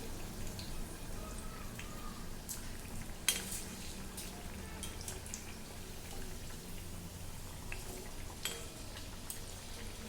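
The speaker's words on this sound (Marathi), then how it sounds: "हरभऱ्याची डाळ असल्यामुळे वडा जो आहे तो तळण्यासाठी थोडा जास्ती वेळ लागतो।" Chana dal vadas deep fry in hot oil, giving a soft, continuous sizzle and crackle with a few sharper pops and spatters, fairly quiet and with no talking.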